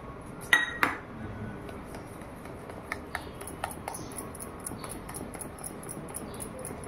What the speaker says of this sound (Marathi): बेसन पिठाचं मिश्रण करूया आपण।